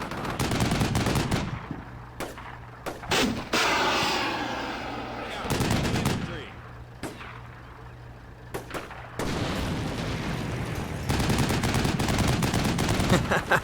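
Artillery and gunfire in the video game Combat Mission: Shock Force 2 crackle in rapid, loud bursts, with machine-gun rattles and booming impacts separated by short quieter gaps, and a voice speaking at times.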